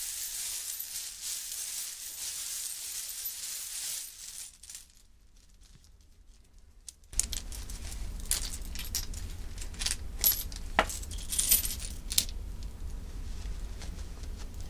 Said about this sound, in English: I'll shuffle again to make sure none of those terms were important.